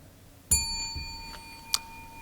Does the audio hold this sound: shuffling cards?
no